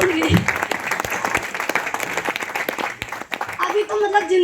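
Audience applause at an Indian business event, sustained dense clapping from a crowd with a voice speaking over it throughout.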